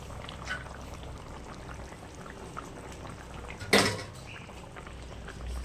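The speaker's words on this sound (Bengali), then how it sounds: "ফুটে গেছে, এবার মাছগুলো দিয়ে দেবো।" Rohu fish pieces drop into a boiling curry with ridge gourd and jackfruit seeds, a single sharp splash over a quiet background bubble.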